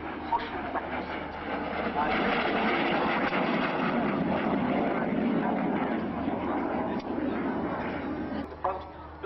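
A BAe Hawk jet trainer passes during an airshow display at Waddington, a steady loud roar of jet engine lasting the whole stretch, with no clear talking over it.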